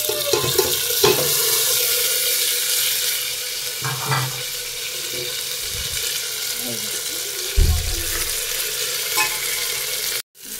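Water poured into a pot of cooking chicken with tomatoes, giving a steady hiss and splash that blends with sizzling for about ten seconds, with brief clunks and faint background talk before it cuts off abruptly.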